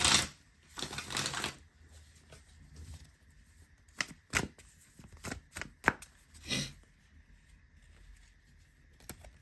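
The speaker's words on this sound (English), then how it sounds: "let's shuffle the cards and see what card comes out for you." Tarot cards being shuffled and riffled up close: bursts of crisp flapping and a string of sharp taps and slaps, with quiet gaps between.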